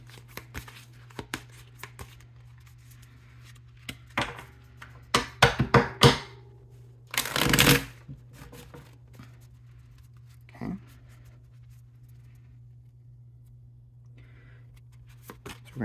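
Cards from an oversized tarot deck are shuffled and drawn in a quiet room, with scattered soft slides and taps and a denser burst of riffling and handling midway. A faint steady hum runs underneath throughout.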